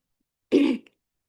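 A single short throat clear with a rough cough-like burst, close and fairly loud, followed by a small click and silence.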